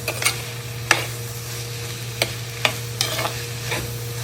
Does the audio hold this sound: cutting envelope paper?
no